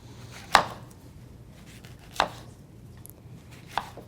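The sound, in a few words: chopping peaches on a cutting board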